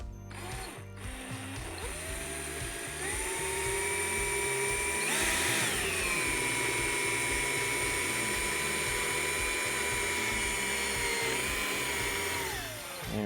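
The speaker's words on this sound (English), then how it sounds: "want to tap a hole in there so I can use a stainless steel bolt, washer and spring washer to keep it secure" Steady whirring of a power tool tapping a threaded hole in a caravan awning bracket for a stainless steel bolt, running continuously for about thirteen seconds with slight pitch shifts partway through, close and fairly loud.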